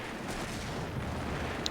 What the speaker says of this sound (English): Those mortars coming down there.